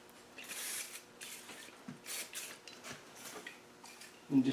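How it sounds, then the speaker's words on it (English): Several short hissing bursts of an aerosol spray on a 1995 Range Rover heater box, fairly close, separated by brief pauses, ending with a louder clatter. "we'll leave that, we'll give it another spray"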